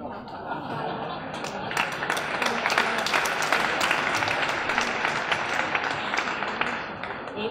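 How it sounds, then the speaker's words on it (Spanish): An audience at a literary festival conversation in Cartagena de Indias applauds, a dense, sustained burst of clapping that builds and stays loud for several seconds before easing. "Un aplauso."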